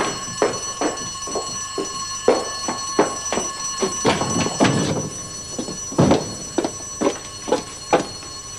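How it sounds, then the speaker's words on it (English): Fire alarm ringing in a school, a sustained electronic tone under a regular series of loud rattling bursts roughly every half second, close and insistent, with no voices. "looks like a false alarm"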